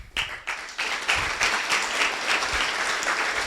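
Audience members applaud at the end of a talk on French and American startup culture, starting in a sudden burst and settling into a steady patter of many hands.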